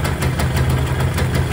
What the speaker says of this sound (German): Der Motor läuft und klingt kerngesund.